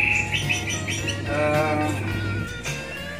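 A white-rumped shama (murai) sings a bright, varied run of clear chirps and whistled phrases close to the microphone, with a steady low hum running beneath it throughout.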